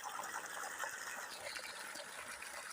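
Water gushes steadily from a pump run by a solar VFD inverter, a constant, fairly faint rushing flow with no break.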